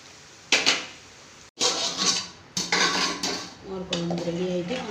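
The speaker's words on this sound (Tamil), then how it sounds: "இப்போ அடுப்பை ஆஃப் பண்ணி இறக்கிடலாம்" A cooking pot of moor kuzhambu, a buttermilk curry with carrot and coconut, is lifted off a home stove: several sharp metal clanks and scrapes of pots and utensils, close and fairly loud, with a voice briefly near the end.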